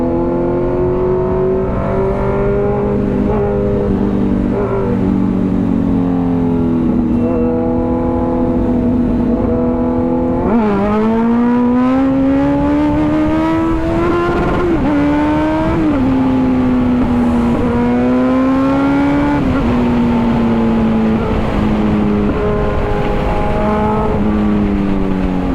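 Two 2023 Kawasaki Z900 motorcycles race side by side, their engines loud and close, revving hard with rising pitch sweeps as they accelerate and shift through gears, continuous throughout with no talk.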